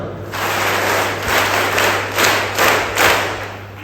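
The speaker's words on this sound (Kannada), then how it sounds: "ಇನ್ನೊಮ್ಮೆ ಅವರಿಗೋಸ್ಕರ ವಿಶೇಷವಾಗಿ ಜೋರಾಗಿ ಚಪ್ಪಾಳೆ" Loud, sustained applause for honoured students at a government pre-university college ceremony, a dense crowd clapping continuously with some swells in intensity.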